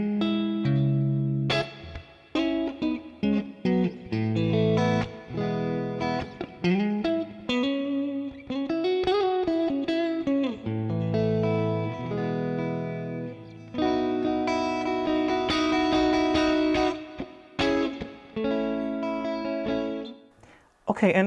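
An electric guitar played through a ToneX tone model with plate reverb rings out in sustained chords and melodic notes, with echoing tails between phrases.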